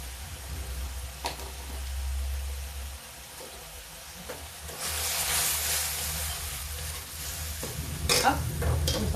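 Kadhi with Kashmiri chili is stirred in a pan, giving soft scraping and sizzling with a few sharp clinks and a brief hiss, close and under low room noise.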